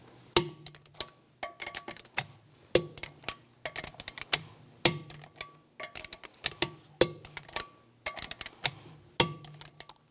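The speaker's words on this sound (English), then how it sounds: "we're going to torque the lug studs to 96 foot-pounds in a cross pattern to tighten the wheel down" Metallic clicks and clanks from a torque wrench being worked around the wheel lug studs of a 2001-2006 BMW 325Xi, tightened to 96 foot-pounds in a cross pattern; sharp, close, irregular clicking bursts repeat throughout with no talk.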